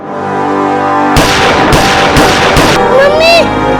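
Gunshots in a Hindi TV crime drama, four sharp loud bursts in quick succession that cut through a sustained tonal music bed, followed by a rising, whistling tone.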